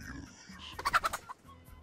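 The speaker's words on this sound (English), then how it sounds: "Get out of here, you birds!" Birds in the pixel-art pirate video game Pixel Piracy, a quick burst of clucking, squawking calls over soft game ambience, briefly loud then fading.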